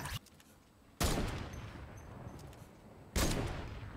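Two sharp, loud sniper rifle shots in a video game, well spaced, each a sudden crack with a trailing echo that fades out over quieter background noise.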